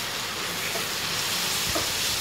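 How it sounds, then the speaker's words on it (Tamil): Tomato and masala sautéing in a pan for pepper chicken make a steady, close sizzle with faint stirring scrapes, with no voices. "லைட்டாக தக்காளி வதங்குற வரை வதக்கிக்கலாம்"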